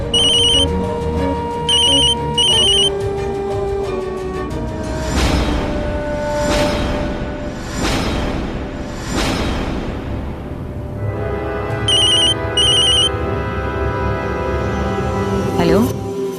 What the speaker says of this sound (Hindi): कौन फोन कर रहा है